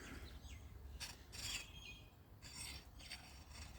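A file is pushed across a pruner blade to flatten it for sharpening, faint close rasping strokes in short bursts with gaps between, over a quiet background.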